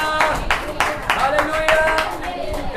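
Rhythmic clapping from a church congregation at a Thursday healing service, regular beats repeating about twice a second, with voices mixed in over the claps.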